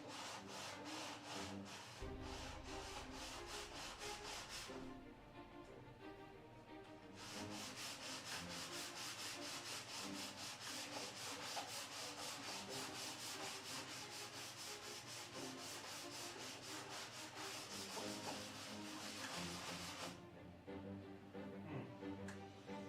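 A wooden door being sanded by hand with sanding blocks, a steady rhythmic rasping of quick back-and-forth strokes that pauses briefly twice, close and continuous, with no talking.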